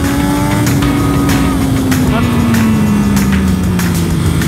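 A Triumph Daytona motorcycle engine revs high on the Anneau du Rhin race circuit, a loud, sustained tone slowly falling in pitch over a few seconds beneath steady wind and road roar.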